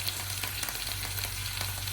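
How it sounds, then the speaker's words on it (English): Chicken and peanuts stir-fried together in a pan, a steady close sizzle with faint scraping stirs, continuous and alone. "cook and stir fry it all together"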